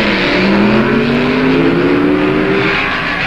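Junior stock drag race between a 1962 Plymouth with automatic transmission and a 4-speed Corvette at the 1966 NHRA U.S. Nationals: engines roaring hard at full throttle, with rising revving tones climbing steadily, loud and close.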